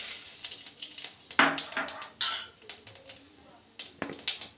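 Whole cumin and bay leaf crackle in leftover fish-frying oil, heard as soft sizzling with intermittent sharp pops and clinks of a spoon against the pan, moderately close.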